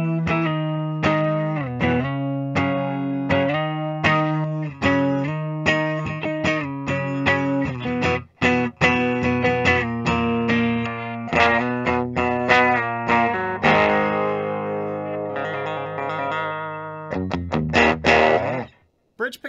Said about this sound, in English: The clean tones go, that neck pickup is extra glassy on this